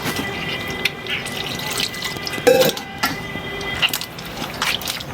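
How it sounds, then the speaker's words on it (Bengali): Water trickling and dripping as it is added bit by bit to rice flour dough, soft liquid splashes with a light knock midway, close and alone without talk. "এখন এখন একটু একটু জল দিয়ে আটাটাকে আবার নরম করে দেব।"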